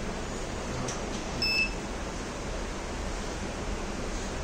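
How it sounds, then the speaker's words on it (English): A buzzer on a Raspberry Pi fire detection and SMS alert system gives one short, thin beep over a steady hiss of background noise. "So, this buzzer will be on first one single beep."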